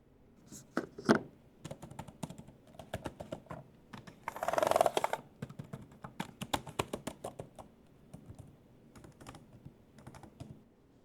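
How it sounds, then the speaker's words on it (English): Rapid typing on a Dell Pro Max 16 laptop keyboard, a steady stream of close, crisp key clicks with a brief denser clatter partway through. "I'm going to let you hear the sound of the keyboard"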